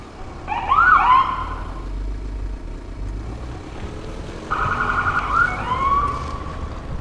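A police-style siren sound effect in a radio drama wails in two rising-and-falling bursts, loud and close, with a pause between them and faint low rumble underneath.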